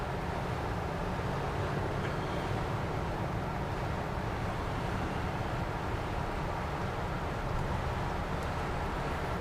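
A 1963 Ford Galaxie 500 with a 390 engine idles smoothly and steadily, a dense low rumble filling the space without a break for the whole stretch, with no voices over it.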